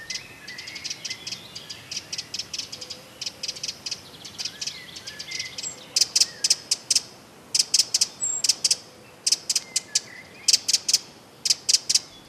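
Rapid dry, rattling scold calls from a wren repeat in quick bursts, growing louder and more insistent in the second half, with faint birdsong and German forest ambience behind.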